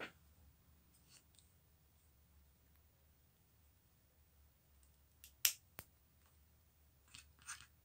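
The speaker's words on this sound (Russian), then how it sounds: "лишнее я обрезаю" Scissors trim off excess material in decorative craftwork, a few quiet, crisp snips and clicks spread sparsely against near silence, with one sharper cut in the middle.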